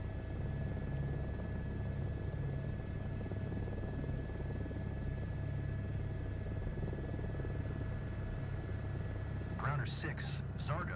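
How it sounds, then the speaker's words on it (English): Video game helicopter rotor spinning up, a steady droning engine rumble with a constant high whine held at an even level throughout, joined by a brief radio voice near the end. "we're getting our rotor speed up"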